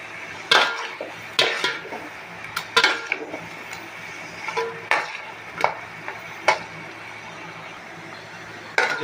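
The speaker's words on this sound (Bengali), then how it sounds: "এই মাছগুলো আমি মাছ ভাজাগুলো কিছুক্ষণ কষিয়ে নেব" Fried rohu fish sautéed in a pan makes repeated clanks and scrapes of a spoon against metal every second or so, over a low background sizzle.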